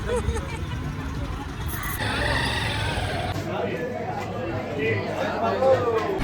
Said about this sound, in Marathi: ट्रॅफिक, इतकं ट्रॅफिक जाम आहे बेकार